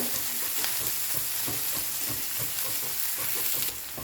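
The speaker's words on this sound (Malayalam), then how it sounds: "നമുക്ക് ഹൈ ഫ്ലെയിമിൽ തന്നെ വെച്ച് നമുക്കൊന്ന് മൂപ്പിച്ചെടുക്കാം" Shallots fry over a high flame with a dense, continuous sizzle and crackle, loud and close, the steady frying ending only in a slight dip near the close.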